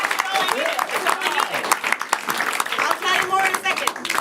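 Audience applause at a live event show, a crowd clapping steadily and fairly close throughout, with voices mixed in over the clapping.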